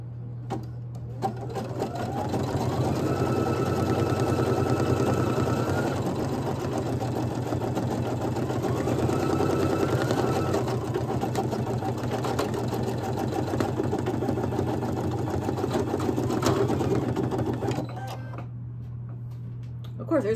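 A Brother embroidery machine, a 1600E-type model, stitching a design on a key fob runs as a steady rapid mechanical whir and chatter close up for about eighteen seconds, then stops, with a constant low hum underneath.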